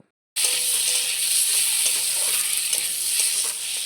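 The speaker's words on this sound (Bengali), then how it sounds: "পেঁয়াজ আর আলুটাকে আমি 2 মিনিট কষিয়ে নেব" Onion and potato sautéing with Kashmiri chilli powder for a Bengali mochar ghonto, a loud, dense sizzle that starts abruptly after a short silence and holds steady to the end, with faint stirring and no voices.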